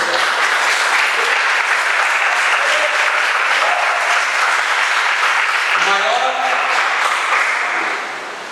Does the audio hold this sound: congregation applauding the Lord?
yes